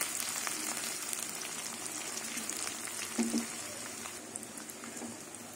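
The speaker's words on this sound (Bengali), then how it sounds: "রসুনটা কিছুক্ষণ ভাজবো বলতে রসুনের কাঁচা গন্ধটা চলে যাওয়া অবধি" Garlic fries in a pan with a steady, close hiss of sizzling oil and soft crackles, plus a brief stir or knock midway.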